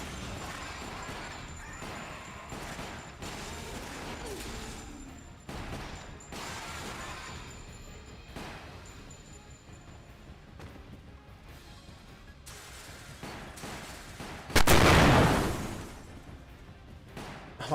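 A grenade blast in a Wii light-gun shooter booms out as one loud, broadband burst late on, rising suddenly over steady game noise and scattered gunfire and then decaying over roughly a second.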